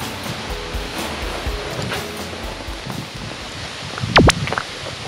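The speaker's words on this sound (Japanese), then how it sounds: "川の音がすごくいいですね。" A mountain river near a hot spring park flows with a steady broadband rush under outdoor wind noise, fairly close and continuous, with a brief bright chirp near the end.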